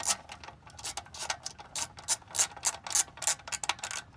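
A ratcheting wrench loosening the oil drain plug on a 2010 Toyota Highlander 4-cylinder, rapid crisp clicks in a steady run of short bursts, close and fairly quiet with no talk.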